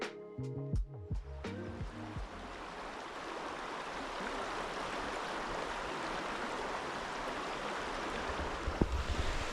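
A river rushes steadily beside a car campsite near Mt. Rainier, a loud, even wash of flowing water after a few brief tonal clunks at the start.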